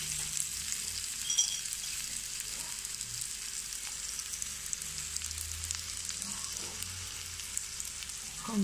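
A finger millet and amaranthus uthappam cooks on a pan with a soft, steady sizzle under faint scattered ticks and a low background hum; nobody speaks.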